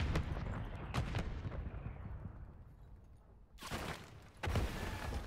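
Gunfire in the shooter Call of Duty MW3, with sharp shots near the start and around one second, a quieter stretch, then louder bursts of rapid fire near the end.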